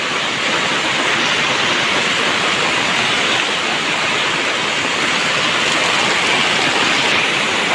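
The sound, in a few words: heavy monsoon rain and flowing water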